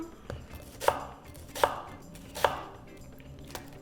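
A knife chops an onion on a cutting board for a smothered chicken recipe, with four sharp, evenly spaced thuds about a second apart, close and clear, no talking.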